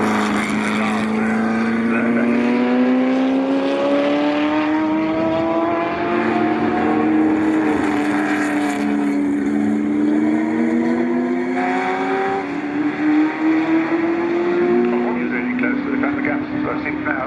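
Ford GT40 race cars running at Silverstone, engines roaring loud and steady past and down the straight with rising and falling pitch, a commentator talking over the noise throughout.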